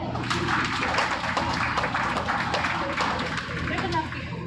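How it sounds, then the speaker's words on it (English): An audience at a hog livestock show applauds the winners, a steady, dense wash of many hands clapping with voices mixed in. "Let's give them all a big round of applause"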